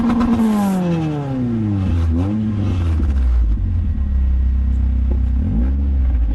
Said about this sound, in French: Là vous allez voir le bruit des anciens moteurs